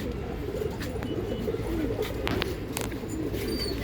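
Pigeons coo steadily under a dense wash of background chatter from a flock kept for a pigeon-flying tournament, with a few faint chirps rising above the low, continuous murmur.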